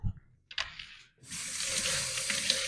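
Water from a kitchen tap runs into a sink, with a short burst and a pause before a steady rushing flow that continues to the end, close and moderately loud.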